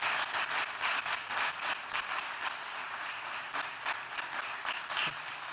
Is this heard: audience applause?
yes